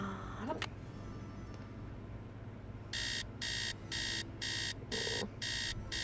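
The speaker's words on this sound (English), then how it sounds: "Hate that alarm noise." An alarm clock rings in a Nancy Drew game, Treasure in the Royal Tower, with sharp, evenly spaced electronic bursts repeating about seven times in a steady pulse after a brief quiet stretch.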